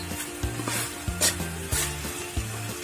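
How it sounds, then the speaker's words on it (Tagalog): Kare kare being stirred in a frying pan, a low sizzle under repeated scraping strokes of a utensil against the pan, several rhythmic stirs about every half second, close and clear with no speech. "Haluin ng haluin. Igiling haluin."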